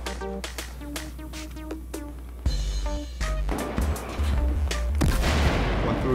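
Dense gunfire and blasts from the video game Battlefield 4, a rapid fusillade of shots with booming explosions building in intensity, loud and continuous with no talk.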